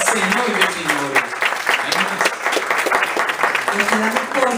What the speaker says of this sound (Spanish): Vamos a darle un aplauso al Rey de Reyes, al Señor de Señores.